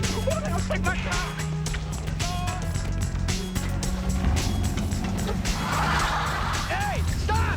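A car speeding off with its tires squealing, the engine roaring loudly up close as screeches rise over it, with people shouting.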